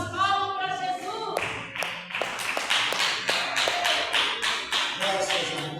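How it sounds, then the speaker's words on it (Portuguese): Church congregation clapping together at a service, a loud run of sharp, fairly steady claps after a short stretch of singing or speech at the start. "Vamos receber o nosso irmão com as palmas para Jesus."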